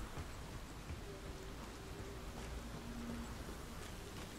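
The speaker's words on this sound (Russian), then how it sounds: "Блин, дождь начался." Rain falling in the horror video game The Medium, a steady soft hiss spread evenly through the whole stretch, with faint tones underneath and no talk.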